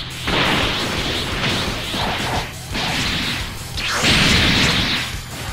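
A spirit bomb attack in the video game Dragon Ball Xenoverse 2 during a two-versus-two match: loud repeated whooshing blasts and crashing energy surges in several long waves, with no talking over them.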